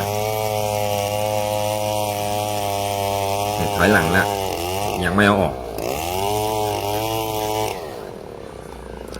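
An 8.5-horsepower gasoline chainsaw cuts into wood with a loud, droning engine buzz and dips in pitch as it bites into the log. Someone speaks over the running saw.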